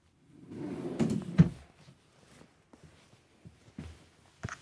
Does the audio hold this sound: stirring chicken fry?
no